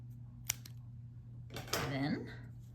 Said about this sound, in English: and cut the loop